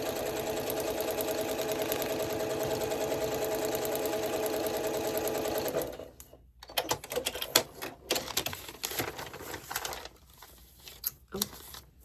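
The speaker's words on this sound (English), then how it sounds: "then I'm going to sew it down" Sewing machine stitching quilt fabric for foundation paper piecing, a steady close whir for about six seconds, then stopping into quiet handling clicks and rustles.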